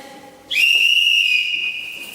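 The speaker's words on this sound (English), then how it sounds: "at 7:20, they'd hear this whistle once again." A morning whistle at Alcatraz prison gives one loud, sustained, steady blast that holds for nearly two seconds.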